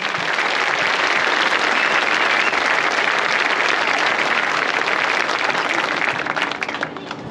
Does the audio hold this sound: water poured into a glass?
no